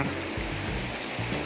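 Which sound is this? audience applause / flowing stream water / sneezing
flowing stream water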